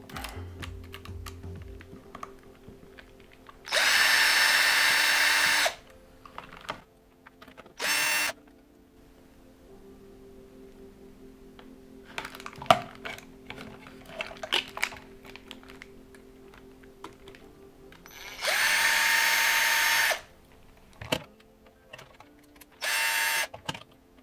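A power screwdriver spins screws out of a WLtoys 144001 RC car chassis in four separate loud whirring bursts of a second or two each, with quiet clicks and handling noise in between.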